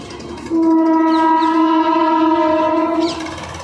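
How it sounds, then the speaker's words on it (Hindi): A train runs along a railway track right beside a cave-style Shiva temple, its horn sounding a long, loud, steady tone for about three seconds over rumbling wheels, with no talking. "ट्रेन जा रही है वहाँ से अभी यहाँ पे बगल में रेलवे ट्रैक जा रहा है"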